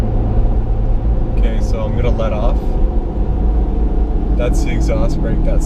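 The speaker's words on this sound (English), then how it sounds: "That's the exhaust brake, that sound" The exhaust brake of a 2015 Ram 2500 Laramie Cummins diesel, a continuous heavy low droning rumble inside the cab as the truck slows, with someone talking over it.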